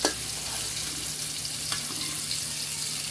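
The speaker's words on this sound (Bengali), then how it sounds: "মাছ ভাজা হয়ে গেছে, তুলে নিব।" Prawns fry in hot oil with a constant, dense sizzling hiss and a faint scrape near the start and middle, steady and close throughout.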